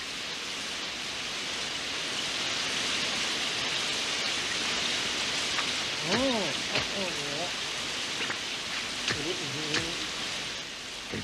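Steady rain falls over an outdoor island scene in a Moomins cartoon episode, a dense continuous hiss throughout, with voices and short sounds breaking in near the end.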